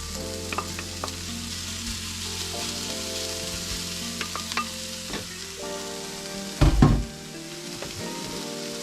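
Carrots frying in a pan for a burger give a close, continuous sizzle with light stirring clicks and scrapes, plus a brief louder clatter near the end; nobody talks.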